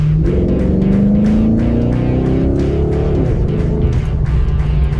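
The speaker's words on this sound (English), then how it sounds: "And then you find that perfect RPM gauge, and then you just give it a little bit of gas." A 2008 Pontiac G8 engine rises steadily in pitch as gas is applied while driving, then eases off, loud and close from inside the car.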